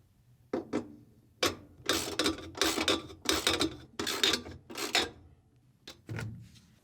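A ratchet clicks in repeated rasping bursts while tightening two bolts on the support bar of a Samsung washing machine, close and loud, with short pauses between strokes and no talk.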